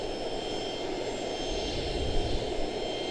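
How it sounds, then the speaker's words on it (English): United Airlines 737 MAX 9 jet arriving at Charlotte-Douglas International Airport, a distant, faint, steady jet engine roar that swells slightly, with no voices. "Next up on arrival, United Airlines 601 737 MAX 9"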